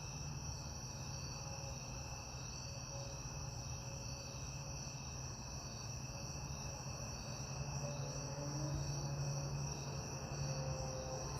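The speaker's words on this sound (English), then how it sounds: "And you hear all the crickets." Crickets chirp at night around a homestead, a steady dense trilling chorus at low volume, continuous and unbroken, with a faint hum underneath and no talking.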